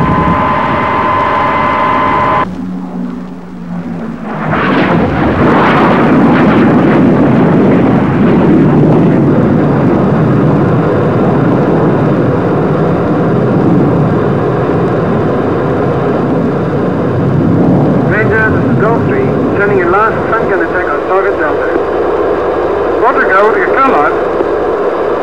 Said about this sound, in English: The fighter force came in afterwards to back up the bombers with strafing attacks.